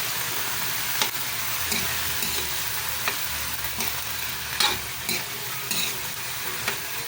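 Squash cooks in a pan while being stirred, a steady loud sizzle with intermittent scraping and clicking of a utensil against the pan.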